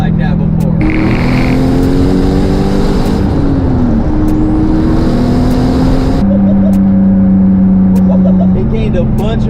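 A turbocharged Maro car accelerates hard with its wheels spinning in third gear, running roughly on seven cylinders; a loud, close engine roars and climbs in pitch, dips at a shift and surges again, with voices mixed in.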